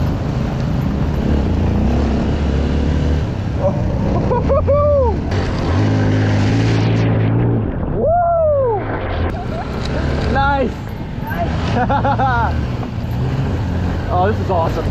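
A Honda CRF 150L dual-sport dirt bike is ridden through Taiwan, its single-cylinder engine droning continuously up close with repeated rising and falling revs as gears change.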